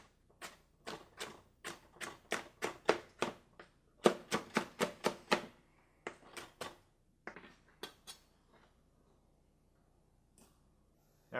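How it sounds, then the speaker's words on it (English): A knife chops tomatoes for salsa on a cutting board in quick, close, crisp strokes, coming in steady bursts that slow and thin out toward the end, with no talking. "I'm just going to cut up these tomatoes"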